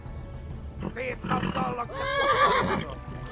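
A horse in the medieval video game Kingdom Come: Deliverance lets out a loud, wavering neigh that rises and trails off over a couple of seconds, close up against faint background noise.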